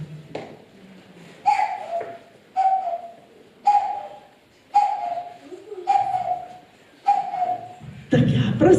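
A person imitates a cuckoo call, voicing a series of two-note hoots again and again at a steady pace, close and fairly loud, with a brief burst of noise at the end.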